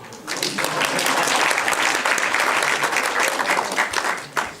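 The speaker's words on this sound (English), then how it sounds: "I think you should give a hand of applause." Audience applause on a university campus during a live radio broadcast, clapping swelling quickly and holding steady before trailing off with a few final claps.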